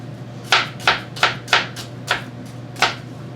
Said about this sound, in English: There's the other half of the onion. Chop, chop, chop, chop, chop.